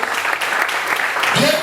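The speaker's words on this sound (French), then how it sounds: "Est-ce qu'on peut acclamer cette parole?" A church congregation applauds together, a steady wash of clapping that holds loud and even for the whole stretch, with a few voices rising over it.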